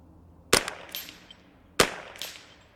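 Two sharp reports from a JPRFX semi-automatic .22LR rifle, roughly a second and a quarter apart, each loud crack trailing off in a brief ringing echo.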